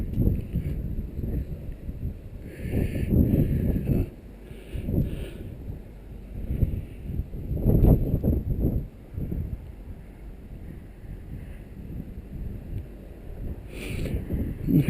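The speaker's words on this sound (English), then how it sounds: "A little breezy out here today." Gusty wind buffets the microphone outdoors at a historic presidio site on a breezy, cool day, coming in loud rumbling waves that rise and fall throughout with no one speaking.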